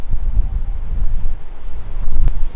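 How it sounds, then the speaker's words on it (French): Wind blows across the open shore of a mountain lake on a trek in the Vosges massif, buffeting the microphone in loud, uneven gusts with low rumbling bursts throughout. "Il y a un peu de vent, je sais pas si on l'entend"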